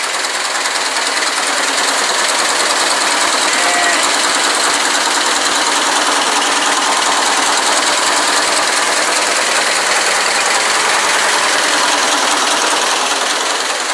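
A car engine running at a steady, rough idle with an exhaust leak, loud and close, with a constant mechanical chatter and no break for the whole stretch.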